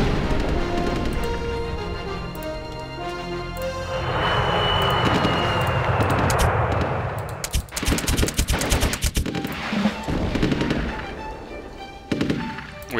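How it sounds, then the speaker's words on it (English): Gunfire and aircraft noise from a Rise of Nations strategy battle, with a sustained roar of bombers followed by rapid bursts of machine-gun fire and explosions, loud and dense throughout. "We have bombers coming in to help secure that position."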